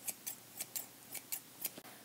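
Scissors cut a square around a shape in paper, about eight soft evenly spaced snips, close and quiet, with no voices.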